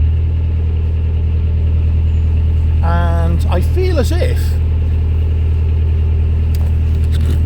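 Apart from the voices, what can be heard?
narrowboat engine revving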